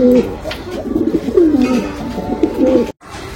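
Rampuri pigeons coo in a steady, rolling series of low throaty calls, close and clear, ending abruptly in a brief silence.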